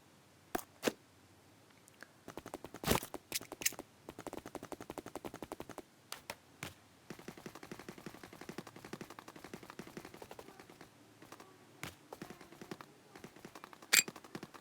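Bursts of M16 rifle fire in a battle royale video game, single sharp shots and rapid automatic strings separated by brief pauses, fairly loud and close, with no talk over them.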